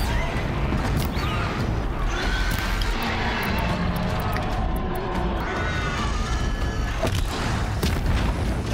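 Bomb blasts in the video game Horizon, repeated booming explosions and crashing impacts over dense, continuous combat noise, loud and close, with brief voices mixed in.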